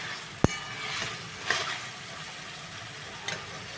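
Shrimp stirred and fried with spices in a pan, a soft steady sizzle with a few sharp scraping clicks of the spoon, fairly quiet and close, no talking.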